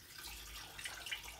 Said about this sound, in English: pour our lavender flower infused witch hazel into a glass jar that we can keep it in